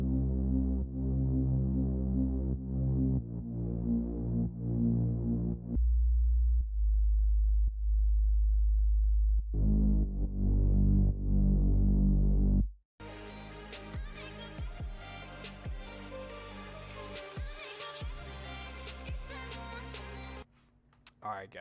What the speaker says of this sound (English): We'll go ahead and solo out the Reese Bass and then the sub bass, and then put them together so you can see what it sounds like.